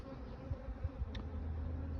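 Honey bees drone at a hive in a faint, steady buzz that holds through the two seconds without any voices.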